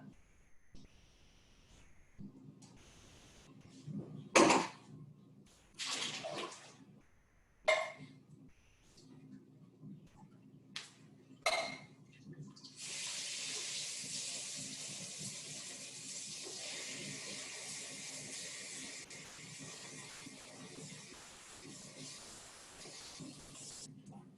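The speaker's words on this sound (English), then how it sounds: "drain the garbanzo beans and rinse them with cold water" Cold tap water streams steadily over canned garbanzo beans in a strainer for several seconds after a stretch of clattering handling noises, a continuous broadband rush close to the microphone.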